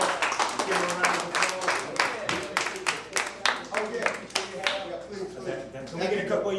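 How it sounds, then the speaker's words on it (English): An audience claps at a live talk, a burst of uneven hand claps that swells and then thins out, with a voice speaking over the applause. "please give this good brother a round of applause"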